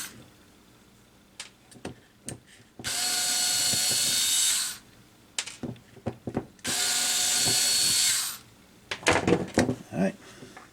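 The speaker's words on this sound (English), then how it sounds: "So what I'll do is go ahead and remove the tweeter. Hang on to these screws." Two sustained bursts of a power drill backing screws out of a 1982 Boston Acoustics A70 tweeter, each lasting about two seconds, loud and close, separated and followed by scattered clicks and handling taps.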